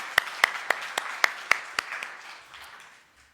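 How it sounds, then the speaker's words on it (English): At a business event, a few sharp, distinct hand claps ring out in a slow, regular rhythm, joined by scattered fainter clapping that thins out and fades to near quiet. "Can we just round of applause?"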